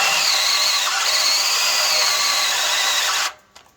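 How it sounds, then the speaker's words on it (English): A Makita gear-drive drill, a slow roughly 600 rpm model, bores a 1/2 inch hole while making a backhoe boom lock, whining steadily and loudly for about three seconds before cutting off abruptly. "This isn't the right drill for it, but this will work. I got a Makita gear drive, slow one."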